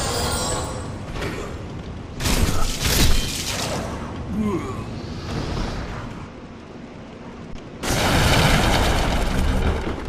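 Fire bombs explode in Demon's Souls, producing several heavy booming bursts with crackling, shattering tails, separated by quieter stretches of ambient game noise.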